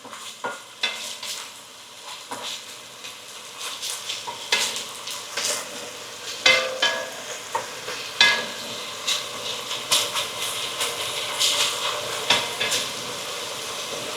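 Onions frying in a pan for a marinara sauce for American-Italian meatballs, a steady close sizzle broken by repeated clicks and scrapes of stirring, with no talking.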